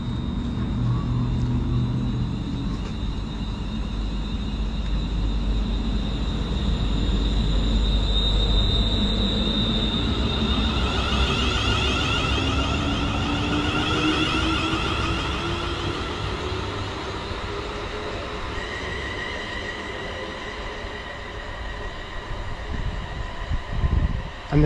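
A West Midlands Railway train departs toward Rugeley Trent Valley, its rumble building as it pulls away, with sustained wheel squeal and a passing tonal whine over steady rail noise, close by and loud, with no talking.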